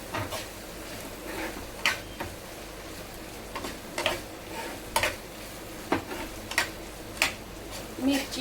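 Stuffed pomfret filled with prawns fries in a banana leaf, a soft sizzle underneath with a string of sharp clicks and taps from a utensil against the pan, and no talking.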